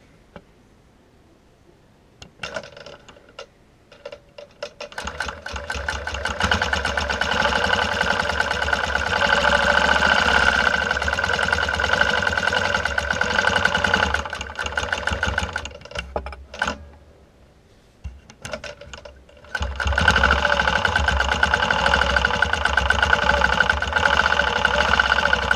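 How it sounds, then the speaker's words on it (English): Sewing machine free-motion quilting a circle around the center of a quilt block using a circle ruler, a steady motorized stitching hum that runs loud and continuous, pausing briefly twice before resuming. "I'm actually quilting it block by block, and I'm using my circle ruler to stitch a circle around in the center."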